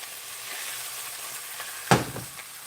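Burgers and hot dogs fry in a skillet with a steady, close sizzle, and one sharp clatter near the end stands out briefly above the crackle.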